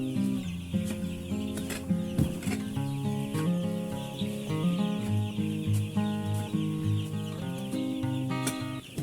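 Chickens clucking on a poultry farm rearing hundreds of birds, many overlapping clucks and squawks in a busy, continuous flock chorus, fairly close.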